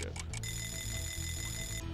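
A countdown timer in the video game Spyro the Dragon rings as a sustained bright electronic alarm tone, preceded by a few quick beeps, over steady game background sound.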